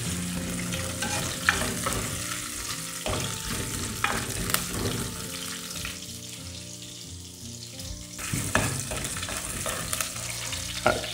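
Rampe, curry leaves, garlic and chili tempering in hot oil for an okra curry, a crackling sizzle with spatula scrapes and clanks against the pan, close and busy, no talking.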